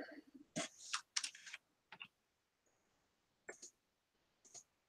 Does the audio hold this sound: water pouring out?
no